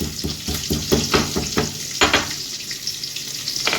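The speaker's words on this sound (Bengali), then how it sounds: "কয়েকটা কাঁচা লঙ্কা আমি ফোড়নের মধ্যে দিয়ে দিলাম" Green chillies and crushed cinnamon sizzle loudly in hot tempering oil in a pan, with continuous frying crackle and bursts of stirring scrapes close up.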